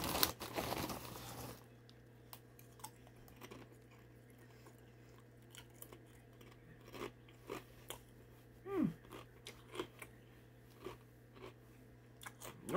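Zapp's Voodoo kettle-cooked potato chips being eaten, with a few sharp close crunches and bites scattered over quiet chewing after an opening rustle of the bag.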